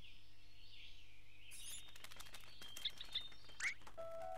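Small injured bird with a broken wing chirping in A Bird Story, a few short high chirps over soft game music and ambient tones, with a brief louder chirp near the end.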